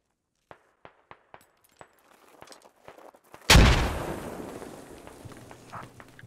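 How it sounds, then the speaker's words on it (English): Sharp gunshots crack one by one in Squad, spaced and fairly distant, then a loud blast or heavy volley booms up close and rumbles away into a long decaying tail. "They're taking distant fire from across the hill over there."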